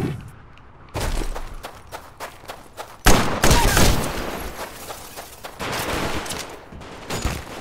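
Bursts of Titanfall video game gunfire, rapid automatic volleys and single loud shots, crack close and loud, starting and stopping over several seconds with brief pauses between bursts.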